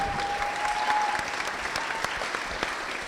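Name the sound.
wedding guests applauding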